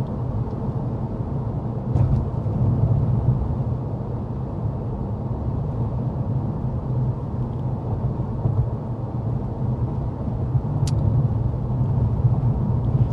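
Steady low road rumble inside the cabin of a 2023 Honda Accord cruising at 55 mph. The broadband noise stays constant with a few faint ticks and no speech.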